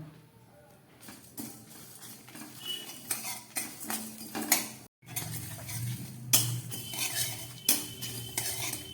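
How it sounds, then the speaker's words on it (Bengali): Whole spices and dried red chilies rattle and scrape in a dry pan as a utensil stirs them, with clinks of metal and a faint sizzle. "এই মশলাটাকে আমি একটু হালকা করে ভেজে নেব"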